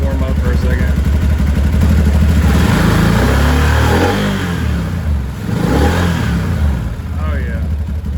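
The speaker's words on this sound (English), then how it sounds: "let's see if it'll rev up now" The engine of a 2013 Can-Am Maverick side-by-side revs up hard and close, climbing and falling in loud sustained surges with a brief dip before roaring again.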